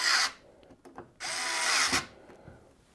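A power screwdriver drives screws into a PC case during a build, with two whirring bursts separated by small clicks and handling taps, the second burst longer and steady, close up with no talking.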